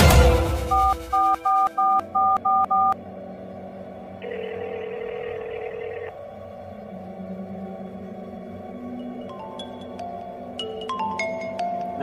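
A telephone signals an incoming call: a quick series of short, evenly spaced electronic beeps at the start, followed by sustained tones and later faint higher chirps over a steady low hum, with no voices.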